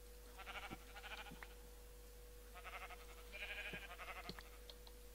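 Sheep in a survival video game bleat in several short, wavering calls spread across the clip, fairly clear over a steady low hum, with no talking.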